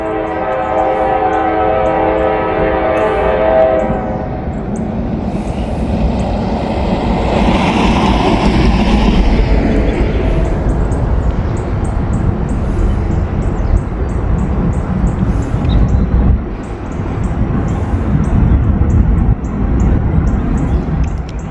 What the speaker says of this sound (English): we got a Norfolk Southern train coming around. There it is, blowing hard.